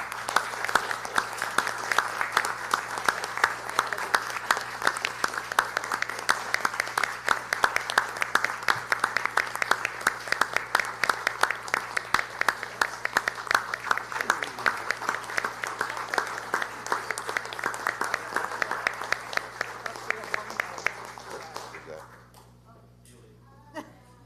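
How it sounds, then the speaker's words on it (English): Round of applause for tenure recipients at a board of education meeting, a sustained roomful of clapping lasting about twenty seconds before fading abruptly. "if everyone please join me in a round of applause for our tenure recipients"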